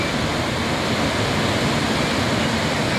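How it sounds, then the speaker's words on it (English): Rushing water of the Chania River waterfalls, a loud, dense, unbroken roar of falling water heard up close with no voices over it. "This is now the Chania River Waterfalls."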